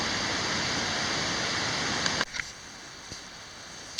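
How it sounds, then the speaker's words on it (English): Rushing waterfall at an icy winter climbing spot: a loud, dense, steady roar of falling water that abruptly drops to a quieter hiss midway, with a few faint knocks and clicks after. "So down here, the waterfall."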